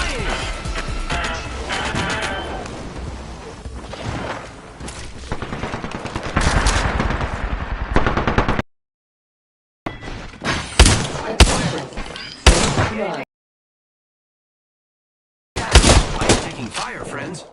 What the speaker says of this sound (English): I'm taking fire, friends.